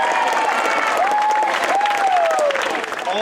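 A campground crowd gives a standing ovation, clapping and cheering loudly in steady, dense applause, with whistles rising above it and a voice calling out briefly.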